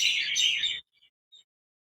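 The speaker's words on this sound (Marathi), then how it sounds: "हा बघा सुंदर किलबिलाट चालू आहे. हे बघा संध्याकाळचा व्ह्यू जिथला" Sparrows chirp in the evening in a short, bright burst of twittering, followed by a couple of faint single chirps before quiet.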